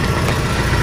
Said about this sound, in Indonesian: ini status mesin masih nyala